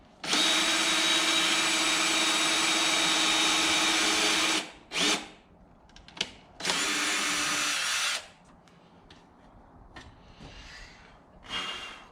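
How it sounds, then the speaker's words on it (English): A power drill bores a hole for a universal battery bracket on a 1997 Nissan Hardbody, giving a loud, steady whine for about four seconds, then two shorter bursts. Quieter handling noise follows. "Make sure we're gonna get a hole in there."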